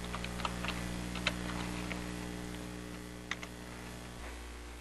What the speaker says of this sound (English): So if I go in here and type in CSS Zen Garden